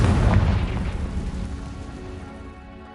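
A Confringo fire spell bursts in Hogwarts Legacy with a loud, deep boom that rolls out and fades over a few seconds, no voices present.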